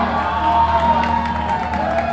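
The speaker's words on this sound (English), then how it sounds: "Can you hear the electricity of this crowd as these guys are coming down?" Wrestling event crowd cheering and roaring steadily as the wrestlers come down to the ring, a continuous dense wash of voices and shouts with scattered claps, without a clear break.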